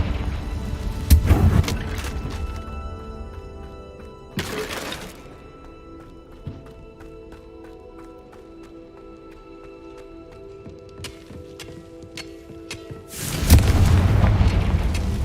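Confringo spell blasts in the Hogwarts Legacy video game: three or four heavy booming explosions with crackling debris, spaced several seconds apart, between quieter stretches of ambient game sound.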